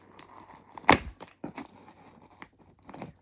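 Cardboard box holding a Pyrotronics fire alarm chime being torn open by hand, a loud ripping burst followed by scattered crinkles, scrapes and softer tearing.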